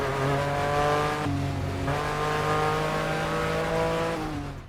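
A race car engine in the racing game Grid Legends, a steady loud roar with rising pitch through the gears and one quick shift partway, continuous and close with no talk.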